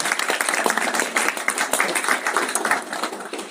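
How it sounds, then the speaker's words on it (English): A live audience at a real estate wealth builders' event applauds, with crisp, steady clapping from many hands, close and loud, sustained throughout without speech. "Everyone give Megan a round of applause"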